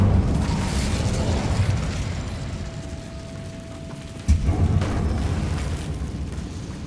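An Incendio fire spell blasts in the video game Hogwarts Legacy: a loud, rumbling burst of flame that carries on, then a sharp second impact partway through and a sustained roar after it.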